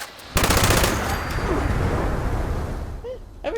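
A rapid-firing gun in Fallout 76 lets loose a dense, sustained burst of loud, close automatic fire lasting about three seconds, with brief game sounds as it trails off.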